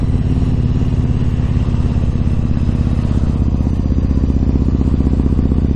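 A Yamaha MT-01 motorcycle ridden on a commute gives off a loud, steady, deep engine throb that holds evenly from start to finish, with no voices.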